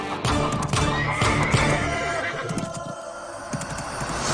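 A horse neighs and whinnies loudly in a climax race scene from a Telugu film, with hoof clip-clops and dense background noise running throughout.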